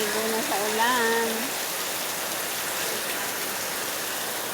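A steady roar of heavy rainfall fills the scene, loud and unbroken, with a voice speaking briefly over it at the start before the downpour continues alone.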